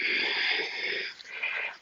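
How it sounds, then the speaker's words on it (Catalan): A long, strong breath is pushed out during a yoga-style stretching session, a breathy rushing sound close to the microphone, steady and then easing off. "Exhalo."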